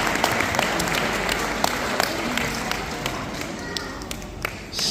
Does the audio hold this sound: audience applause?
yes